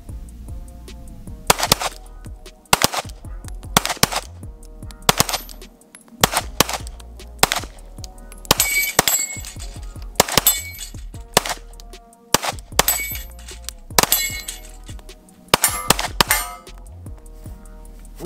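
A shooter empties a whole magazine during a timed shooting run, with a long series of sharp, loud shots spaced across the clip, each carrying a ringing metallic clang, and no voices.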